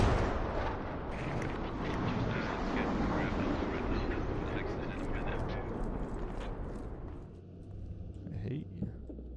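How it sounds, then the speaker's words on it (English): Airstrike explosions in a military video game, heard as a heavy, rumbling roar of blasts that rolls on for several seconds, loud and full, then fades away near the end. "Celebratory airstrike, I'll take it."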